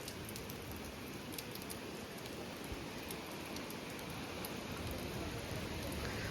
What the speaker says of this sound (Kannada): ಮಳೆ ಒಂದೇ ಸಮ ಬರ್ತಾನೇ ಇದೆ.